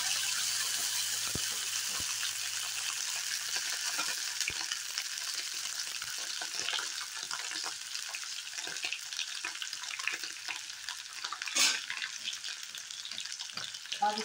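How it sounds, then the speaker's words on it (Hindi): Steady sizzling and crackling of boiled potatoes frying in a hot pan with cumin and fennel seeds, with occasional clinks and stirring scrapes, fairly quiet and continuous. "इसमें हम डाल देंगे उबले हुए आलू।"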